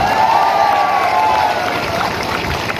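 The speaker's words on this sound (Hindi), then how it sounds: "प्लीज चित्तू बाबू के लिए भी एक ताली मार दीजिए प्लीज" An audience applauds loudly in a short burst, with crowd noise and what sounds like cheering or whistling mixed in over the clapping.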